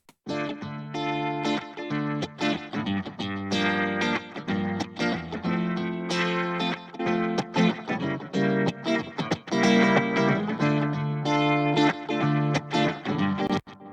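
A distorted, effects-laden guitar track processed with tape saturation, EQ, harmonic distortion and transient shaping plays continuously and densely, full and loud with punchy attacks, no voices.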